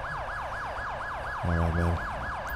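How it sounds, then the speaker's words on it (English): A wailing police car siren from the GTA 5 video game sweeps up and down steadily and loudly throughout, with a brief low horn-like blast in the middle and a short spoken exclamation. "Let's go turn our siren off."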